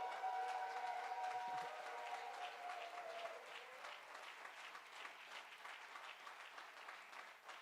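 A church congregation applauding to acclaim the Lord, a steady, moderately distant wash of clapping that fades slightly over several seconds, with a sustained tone lingering underneath at the start.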